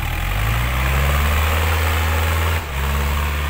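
A farm tractor engine idles nearby with a steady, low, rumbling chug that briefly dips near the end before settling back to an even beat.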